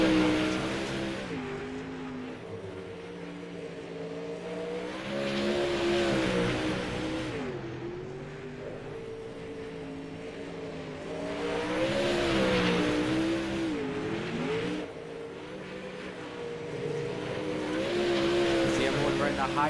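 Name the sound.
race car engine on track in racing video game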